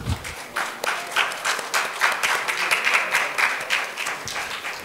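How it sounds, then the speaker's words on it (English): A conference audience applauds a keynote speaker at a sustainable city tourism session, with steady, moderately loud clapping that carries on for about five seconds. "So please welcome him with a round of applause."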